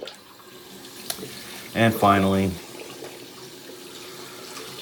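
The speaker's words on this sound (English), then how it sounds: "run some of this water until we can get, there it is, the nice ice cold New York City tap water" Ice cold New York City tap water runs into a sink as a steady, soft rush that continues throughout, with a person briefly speaking over it.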